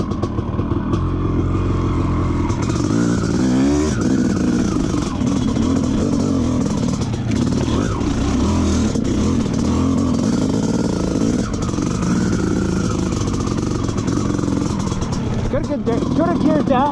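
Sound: dirt bike engine revving during ride, CR/KTM

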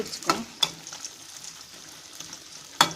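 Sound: brinjal thokku frying and being stirred in a pan

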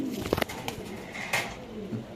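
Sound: Spanish female pigeons cooing

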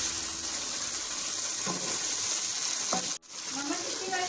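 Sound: chicken karahi frying on high heat

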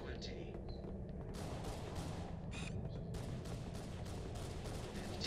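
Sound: gunshots in a video game

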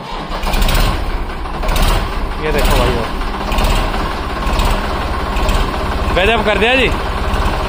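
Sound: Ford 94 model tractor engine starting and idling

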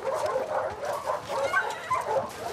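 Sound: German Shepherd dogs barking in video game The Last of Us Part II

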